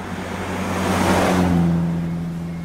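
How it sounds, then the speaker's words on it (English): A single car passes by at moderate distance, its engine swelling then fading, with no talking. "Oh, a car."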